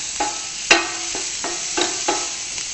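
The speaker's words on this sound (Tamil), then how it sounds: "அப்படியே சாட்டே பண்ணணும்" Ingredients for stuffed mushrooms sautéing in a pan, with a steady sizzle broken by several sharp scrapes and stirring clatters of a utensil against the pan, close and moderately loud, no talking.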